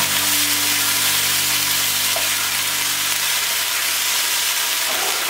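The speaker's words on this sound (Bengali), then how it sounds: "আদা রসুন বাটাটা পানি দিয়ে ভালো করে কষিয়ে নেব।" Ginger-garlic paste with a splash of water cooking into browned onions in oil for egg korma gives a steady, close, loud sizzle with a faint low hum behind it for the first few seconds, and no talk.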